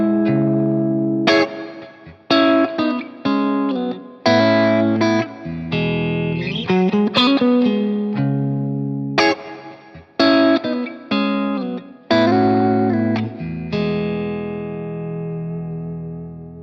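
Electric guitar played through an Amplified Nation Trem Drive Deluxe boutique amp at low input, clean Dumble-style tone: a sequence of ringing chords and single notes with short gaps, reverb tails, and a final sustained chord fading out.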